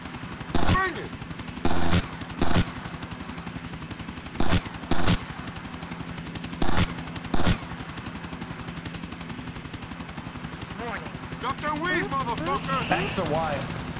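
Repeated bursts of gunfire from Grand Theft Auto: The Ballad of Gay Tony, short loud volleys in an irregular rhythm over game background noise, followed by a stretch with a voice talking.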